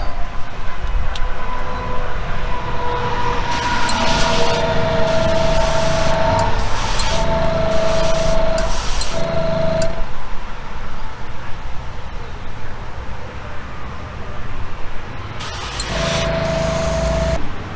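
Aerosol spray paint hissing onto a custom Hot Wheels Bone Shaker, several broad bursts of a few seconds each separated by short pauses, close and loud, with a faint tonal whine riding on each burst.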